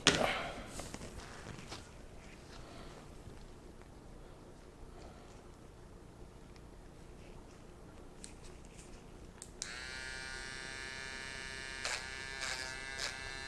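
A handheld electric sander runs against leather sandals in a workshop, a steady buzzing whir at moderate level that steps up to a brighter, louder tone partway through, with a few sharp knocks near the start.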